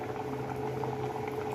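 Aviyal with curd and coconut oil simmers in a pot, giving a soft, steady bubbling and gentle popping that is quiet and continuous with no voices.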